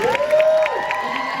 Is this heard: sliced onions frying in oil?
no